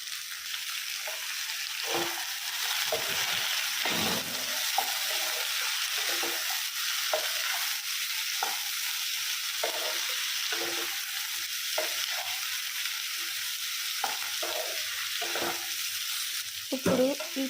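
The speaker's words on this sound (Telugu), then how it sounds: "మనం కట్ చేసుకున్న బొబ్బరి చిక్కుడుకాయను కూడా వేసుకొని బాగా కలుపుకోవాలి" Broad beans sizzle in a pan with ginger-garlic paste while a spoon stirs them, giving soft scraping strokes over a steady frying hiss at moderate, close volume.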